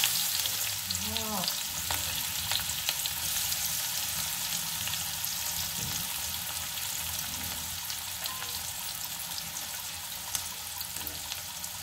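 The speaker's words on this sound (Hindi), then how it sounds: "तो अब मैं डालूंगी इसमें ओनियन।" Onions frying in a pan while lunch is cooked, a steady close sizzle and crackle running through the whole stretch with light stirring and no talk.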